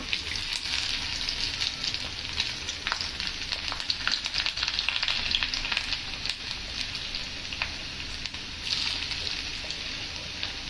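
Ginger and garlic sizzle steadily in hot frying gravy for a multipurpose curry base, a dense, close crackling hiss with small bubbling pops throughout and no talking.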